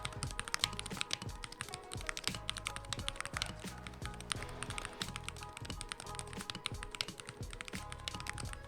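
Rapid typing on an AKKO MOD68 custom magnetic keyboard: dense, close clacking keystrokes in an uneven, continuous rhythm, heard alone without talk.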